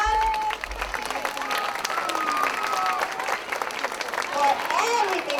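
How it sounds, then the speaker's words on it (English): A school crowd applauds a staff member who worked on a campus event, with steady dense clapping throughout and some voices calling out over it. "Mr. Carlos Vargas, if we can all give him a big round of applause"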